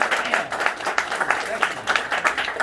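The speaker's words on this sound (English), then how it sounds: "Give them another round of applause." Audience at a real estate training session claps briefly, a close, uneven patter of hands from a modest group with individual claps distinct.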